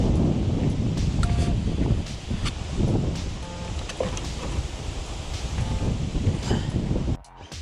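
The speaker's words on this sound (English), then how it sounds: "Today is a little bit windy as well." Wind blowing across a walking trail at a nature reserve, a steady loud rush with microphone buffeting and some rustling throughout.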